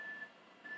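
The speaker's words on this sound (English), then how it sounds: "Sorry about the beeping." Two high, steady electronic beeps from a reversing vehicle, separated by a short gap, over faint background hum.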